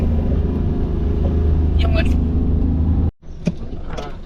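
Car engine droning steadily up a steep, winding hill road near Coimbatore, loud and close, cutting off abruptly near the end, with a voice talking over it.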